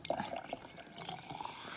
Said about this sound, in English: Okay, let's put a little vinegar.